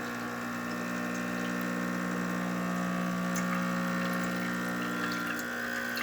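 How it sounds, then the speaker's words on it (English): An Expobar espresso machine pulls a single shot after a tune-up, its pump giving a steady, loud buzzing hum with a faint watery trickle, unbroken for several seconds with no voices. "So starting with one shot of espresso, we're going to test the machine out."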